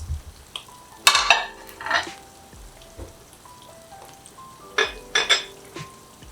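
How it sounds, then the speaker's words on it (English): Plates and cutlery clatter and clink as a table is set for an omelette breakfast, with several sharp ceramic and metal knocks in bursts over a low background hum. "Let's set the table"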